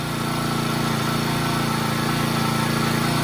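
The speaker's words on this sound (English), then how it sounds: "A little bit of a rough idle right there" Honda HHT35S four-stroke string trimmer engine idling roughly, a steady, fairly loud close-up drone with an uneven rhythmic pulse and no talking.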